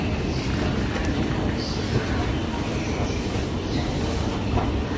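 A train stands at a station platform in Luxembourg, a steady low rumble with rushing wind-like noise throughout, loud and continuous with faint voices in the background.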